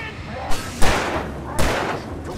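Gunshots in the video game Alan Wake Remastered, fired at an enemy by a lake cabin: two to three loud, sharp shots, each with a broad crack and a lingering tail, spaced under a second apart.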